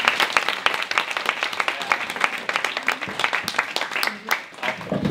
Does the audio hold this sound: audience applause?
yes